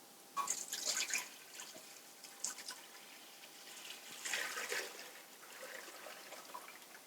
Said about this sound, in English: she's going to pour this into the pot all at once quickly